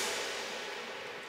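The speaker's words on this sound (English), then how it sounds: "It's followed up by the same crash, but then not reversed." Crash cymbal played forward with heavy reverb in a cinematic intro, a loud bright wash that starts at full strength and decays slowly throughout.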